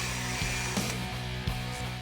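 A power drill hums steadily while boring mounting holes for a front splitter in the front fascia of a 1981 Fox Body Cobra Mustang, with a couple of sharp clicks and knocks over the drone.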